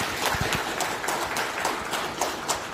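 Wedding guests applaud in a hall, a scattered round of clapping with uneven claps spread across a few seconds, moderately loud and without speech.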